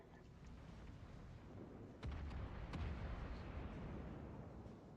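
Naval gun rounds booming in World of Warships, two sharp heavy shots landing close together over a steady low rumble of ocean and engine noise, no talking.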